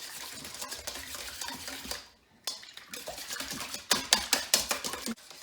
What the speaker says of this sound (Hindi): मैं बहुत अच्छी तरह से मिक्स कर रहा है